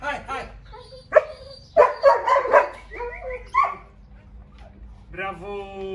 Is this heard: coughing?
no